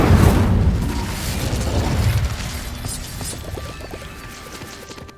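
Incendio fire spell cast in Hogwarts Legacy: a loud burst of roaring flame up front that trails off over a few seconds into faint crackling and small clicks.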